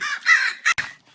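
Crows caw in a Minecraft Create modpack game world, a few harsh, rasping calls in quick succession, close and fairly loud, ending with a brief low thump before fading to quiet.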